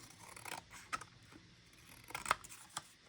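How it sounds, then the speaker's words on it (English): Quiet snips of scissors cutting paper, a few irregular cuts with soft rustling between, close by with no talking. "I'm just going to go with my scissors."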